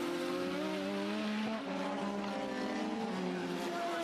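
A 1980s Formula 1 car with a BMW turbo engine races past, its high-pitched engine note sweeping and shifting in tone as it overtakes, loud and sustained over a broadcast background.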